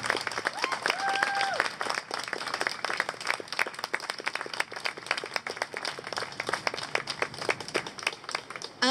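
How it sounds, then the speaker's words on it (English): Applause from an audience at an outdoor rally, a dense patter of many hands clapping steadily at moderate distance, with a brief whistle or cheer near the start. "Come on, we can get a louder applause for that."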